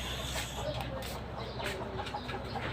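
Large capon chicken clucking softly before slaughter, faint and steady beneath a constant background hum.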